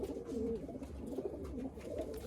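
Male Malwai pigeons coo in a soft, repeated low rolling murmur, steady and fairly quiet throughout.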